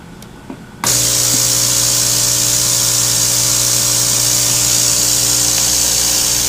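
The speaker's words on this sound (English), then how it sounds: "you can turn on the pump simply by plugging it in" An electric air pump for filling a volatile-sampling bag switches on after a short quiet moment, then runs as a loud, steady, close buzzing drone.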